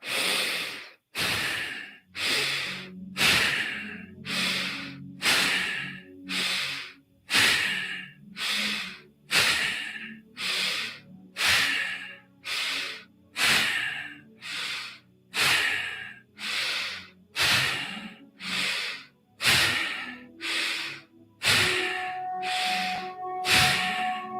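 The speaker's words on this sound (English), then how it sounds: "we're going to begin with 30 rounds of bow breathing together" Bow breathing, a rapid Bandha pranayama exercise led in a guided meditation: about twenty-five forceful, evenly paced breath cycles, each a loud hissing rush of air, close and steady with no talking.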